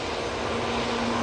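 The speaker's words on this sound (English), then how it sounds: "It's Virgin Atlantic A330-300 coming in from Atlanta." A Virgin Atlantic Airbus A330-300 arriving at Manchester Airport from Atlanta, a loud, steady jet engine roar with a sustained tonal hum and no voices.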